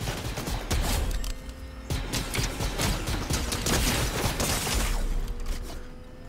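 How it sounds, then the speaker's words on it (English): Rapid gunfire in an online battle-royale video game, dense bursts of shots crackling across the whole stretch with brief gaps, fairly loud and steady. "I'm getting shot at."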